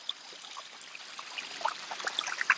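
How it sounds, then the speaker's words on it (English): Spring water trickling and dribbling out of the ground beside a walking path in Tanjong Tokong, Penang, Malaysia, with soft continuous bubbling and irregular brighter drips growing busier toward the end, close by and alone. "Water spring here. There's water popping out of nowhere."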